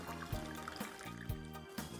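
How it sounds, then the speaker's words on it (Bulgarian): Hot water is poured to top up a rice dish with lamb, a faint trickling stream of liquid with soft gurgling pulses, quiet and close. "Сега допълвам с гореща вода."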